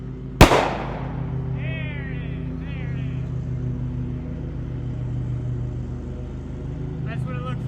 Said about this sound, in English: let's see how sulfur and potassium chlorate reacts when it's professionally done.